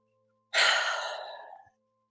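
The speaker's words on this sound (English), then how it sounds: "Take a deep breath if you'd like." A single deep breath taken during a guided letting-go meditation: one clear, close, airy sigh-like exhale lasting about a second, alone in near silence.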